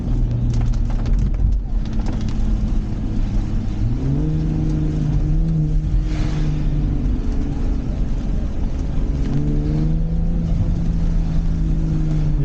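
A loud, constant engine drone from a 2023 BMW M440i xDrive heard from nearby, its pitch climbing twice as the car accelerates, with no voices.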